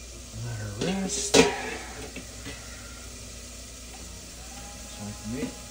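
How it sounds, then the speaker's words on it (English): Food sizzles in a pan while Christmas dinner is cooked, a steady low hiss under clinks and scraping of a utensil, with a sharp clatter near the middle. "Start to sizzle."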